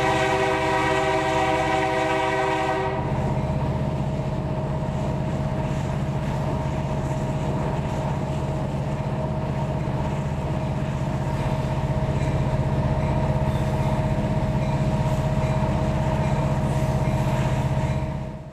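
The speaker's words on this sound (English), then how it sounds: "you'll enjoy the natural sound from the microphones carefully placed on the outside of the train" An Indiana Rail Road freight train horn blares for a few seconds, then gives way to the loud, steady rumble and hum of the train rolling along the tracks, heard from microphones outside the train.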